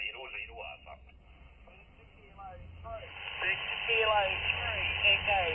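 An amateur radio station received on a tiny (tr)uSDX ultralight HF transceiver, heard as band-limited, tinny voice through a small speaker, with hiss, static and warbling interference that grows louder toward the end.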